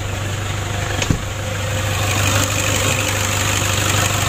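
A Toyota Innova diesel engine that is hard to start and lacks power idles close by with a steady low rumble and a faint rattle, broken by one sharp click near the start, with no voices.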